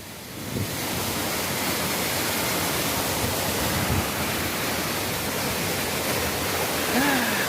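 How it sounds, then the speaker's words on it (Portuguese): The Tobogã waterfall rushes in a loud, continuous broadband roar close to the listener, holding steady throughout, with a brief faint voice near the end. "Olha que queda monstra, velho."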